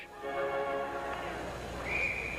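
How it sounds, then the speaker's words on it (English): A referee's shrill whistle sounds near the end of an ice hockey faceoff over a steady crowd murmur in a large arena. "as they drop the puck, the whistle blows"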